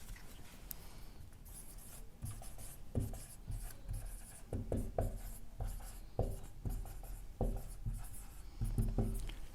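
A pen scratches out numbers on paper during a math lesson, with close, soft, uneven strokes and taps that come in short bursts with no talk.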